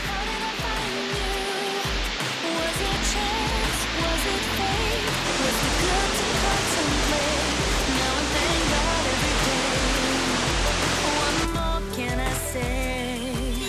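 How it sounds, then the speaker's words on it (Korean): Steady, dense roar of Haew Narok Waterfall, a large three-tiered waterfall in Khao Yai National Park, Thailand, loud and continuous, with the rushing noise changing slightly near the end. "지금 보이는 약 60m의 폭포는 사실 1단계에 불과하다."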